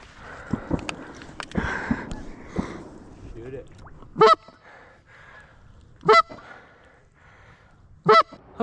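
Geese honk in three loud, sharp bursts spaced about two seconds apart during a goose hunt on water, following earlier talk and noisy movement close by.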